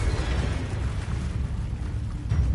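A Confringo fire spell bursts in Hogwarts Legacy, a heavy low rumbling blast that rolls on steadily for a couple of seconds, dense and boomy with no talk over it.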